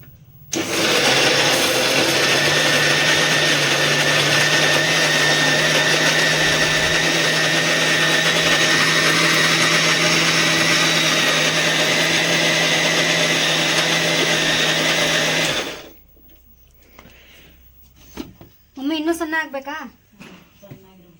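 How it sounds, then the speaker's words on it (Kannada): A mixie grinds masala for a village-style mutton curry with a loud, steady whirring roar that lasts about fifteen seconds and then stops. After that comes quiet clatter and a brief voice. "ಇವಾಗ ಸ್ವಲ್ಪ ಮಿಕ್ಸಿ ಮಾಡ್ಕೊಳ್ಳೋಣ ಮಸಾಲೆನ"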